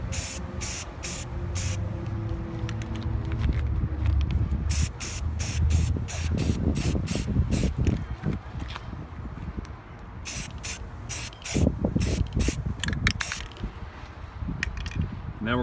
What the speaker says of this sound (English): I'm going to go outside and spray this